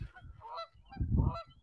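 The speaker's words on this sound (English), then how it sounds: "But we're going to go see the ducks." Waterfowl at a pond on the grounds of the Markham Museum give two bursts of loud, harsh honking calls, close by and in the open air, with no talking over them.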